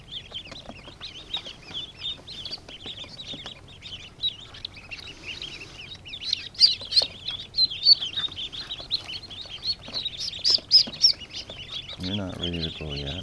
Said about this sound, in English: Little ducklings.